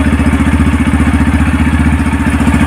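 A 2024 Yamaha FZS V3 motorcycle idles up close, its silencer exhaust giving a steady, even pulsing thrum throughout without any voices.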